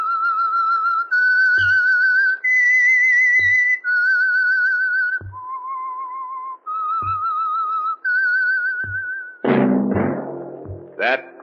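A clear whistled melody of sustained, wavering notes, the Whistler radio show theme, punctuated by regular soft footstep-like thuds, then a brief burst of orchestral sound at the end.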